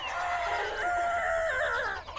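A rooster crows loudly and close by, one long drawn-out call with a wavering, rising and falling tone.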